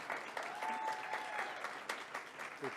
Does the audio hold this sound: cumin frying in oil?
no